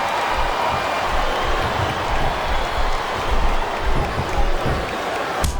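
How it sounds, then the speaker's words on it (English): A wrestling arena crowd at a women's submission match, a dense continuous roar of many voices at a loud, steady level with small swells of noise, heard without commentary. "I think this crowd's giving these superstars a piece of their minds, King."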